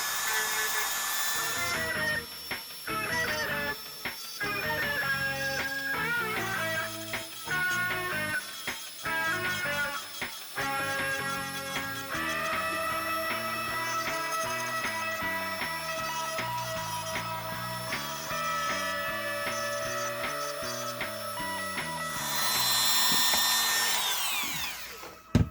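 A rotary tool with a coarse barrel bit grinds down the joints of a plastic action figure being prepared for paint, a steady high whine with shifting tones and brief dips, loud and continuous.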